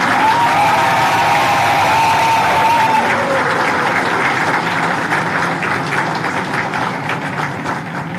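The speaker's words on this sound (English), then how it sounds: "I want you all to give a round of applause." A crowd at a facility inauguration claps in a loud, sustained wash of hands, steady throughout and tapering slightly at the end; a faint tonal whine sits under the first seconds.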